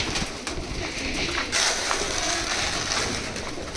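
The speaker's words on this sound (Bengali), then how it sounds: "এই রুমটাতে গিরিবাজ কবুতর রয়েছে। তো খাবার খাওয়ার জন্য সব নিচে নেমে আসতেছে।" Giribaz pigeons in a loft flutter down to feed, a dense continuous mix of close wingbeats, soft cooing and scuffling, with a louder burst of flapping midway.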